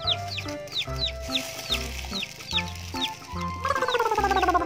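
Chicken clucking in a toy game about catching colourful ducks and chickens, heard as repeated short chirpy bird calls over a steady, rhythmic toy-like musical background, moderately loud and without talk.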